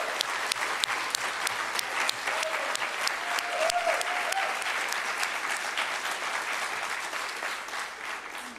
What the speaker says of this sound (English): A round of applause for Cadet Samaglia.